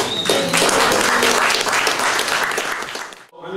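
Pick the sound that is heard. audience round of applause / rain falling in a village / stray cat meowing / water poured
audience round of applause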